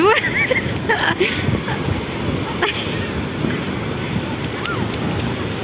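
Sea waves wash onto a beach in a steady broadband surf roar with wind buffeting the microphone, while voices chatter over it throughout.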